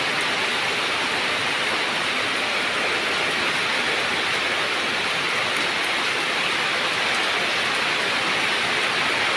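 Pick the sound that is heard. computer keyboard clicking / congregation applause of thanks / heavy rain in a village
heavy rain in a village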